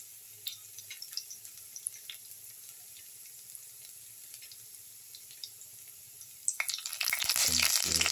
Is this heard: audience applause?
no